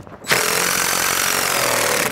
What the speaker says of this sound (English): Pre-drilling it, well, once every 3 to 4 inches, and then we're putting a stainless screw in